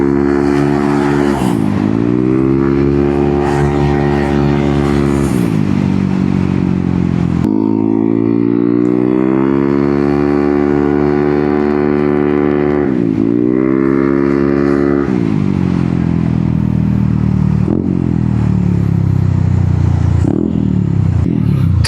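A Honda ADV 160 scooter with an upgraded CVT and remapped stock ECU rides along, its engine drone rising and falling loudly through repeated accelerations and gear-like pitch sweeps, heard close with no talking.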